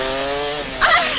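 Motorcycles pass by on a street in a French action film, a loud buzzing engine drone with a sharp, rising rasp near the end as one sweeps close.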